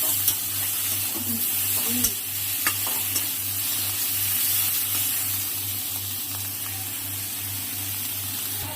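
Onion, chili and cumin paste with green chilies stir-fried in a pan for a fish curry, a steady close sizzle with occasional soft scrapes of stirring, a low continuous hum beneath.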